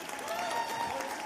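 An audience at the HOPE Global Forums 2023 applauds its partners with a steady, fairly quiet wash of clapping that lasts the whole short moment, with a faint tonal ring above it.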